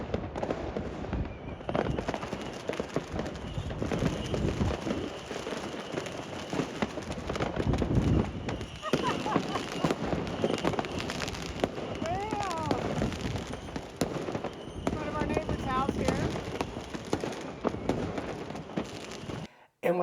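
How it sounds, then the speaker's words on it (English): New Year's Eve fireworks over Schiedam, heard from a bedroom window: a dense, continuous barrage of crackles and bangs at middle distance, with a few whistling rockets rising through it. "this is the fireworks from our bedroom window in Schiedam"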